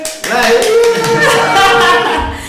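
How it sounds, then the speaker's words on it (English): An audience in Malawi bursts into applause after a live band performance. Loud clapping from many hands mixes with voices and cheering throughout. "The applause though"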